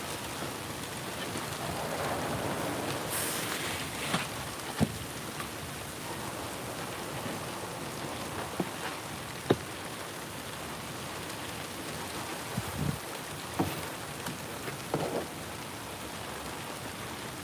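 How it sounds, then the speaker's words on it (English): Rain falling steadily at the SpaceX Starbase launch site in Boca Chica, Texas, a constant hiss of drops with occasional sharper splats and knocks on nearby surfaces, no voices. "It is raining. It's been raining for a while apparently"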